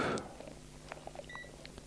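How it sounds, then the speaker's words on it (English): A continuity tester beeps while probing a half-bridge PCB; one short electronic beep sounds faintly in a quiet room, with light handling clicks around it. "This is the beep. If I'm connected, it will beep."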